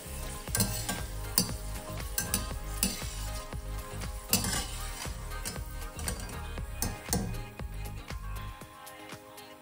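Dried cluster bean vathal frying in hot oil: a steady sizzle broken by frequent sharp scrapes and clinks as a utensil stirs the pan, close and fairly loud, with no voices.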